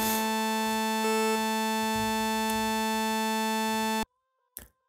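A steady, bright synthesizer tone holds a long A for about four seconds, then cuts off abruptly, followed by a short faint noise.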